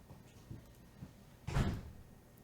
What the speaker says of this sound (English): audio leading up until she opens the door